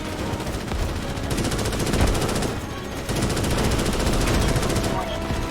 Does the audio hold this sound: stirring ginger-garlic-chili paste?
no